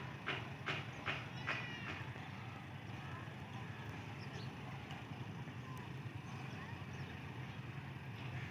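A train hauled by two diesel locomotives, HBU 20 units 8079 and 8069 on the Mehar Express, rumbles past steadily at middle distance. A few sharp clatters come early, and someone talks over it.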